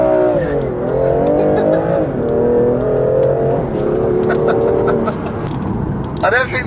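A rear-wheel-drive BMW M2 Competition with 400 horsepower revs hard and accelerates, its engine note climbing and dropping through gears up close, with a whooshing burst near the end.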